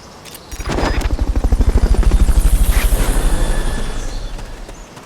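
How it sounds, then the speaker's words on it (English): A helicopter in the Metal Gear Solid Peace Walker video game gives a loud, close, rhythmic rotor thumping that swells in quickly, holds steady and fades slightly toward the end. "Fulton recovered a helicopter."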